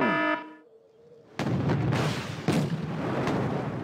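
Tank cannon fire in the war game Red Dragon, set in South Korea: a loud blast sounds after a brief tonal lull, then dense rumbling impacts and further booms roll on through the rest of the clip.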